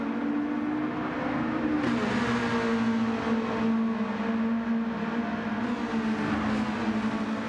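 Race cars lap Kyoto Driving Park in a racing video game, a steady close engine drone with slight pitch shifts as the cars run the track alone.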